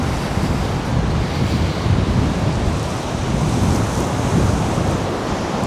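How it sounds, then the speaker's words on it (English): Sea waves wash onto the beach at Benidorm in a continuous loud roar of surf, with heavy wind buffeting the microphone throughout and no voices. "So the waves aren't that high yet."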